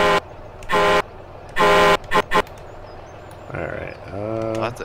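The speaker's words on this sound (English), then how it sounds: "Alright, that's an air horn for you." A truck air horn in the Farming Simulator 17 game, sounded in several loud blasts of varying length during multiplayer snow plowing, followed by a lower engine-like tone near the end.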